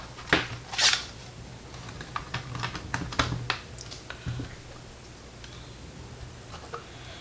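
Scissors snip through material while parts are trimmed away during an NVMe SSD and heatsink upgrade on an Asus ROG Ally handheld. The cuts come as a string of small, irregular clicks, close and fairly quiet, with a couple of louder snips near the start.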